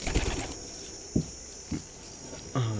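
Soft, low pigeon coos repeat a few times at close range on a goat farm, with faint rustling and a steady high background whine.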